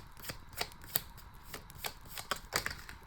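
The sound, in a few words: shuffling tarot cards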